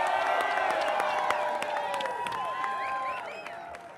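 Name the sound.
crowd applauding at election victory speech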